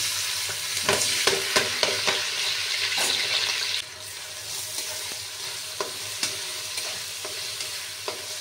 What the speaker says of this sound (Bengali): আমি 2 চামচ মতো তেল দিচ্ছি, দিয়ে ডালটা যে আমি ধুয়েছি সেটা দিয়ে দিচ্ছি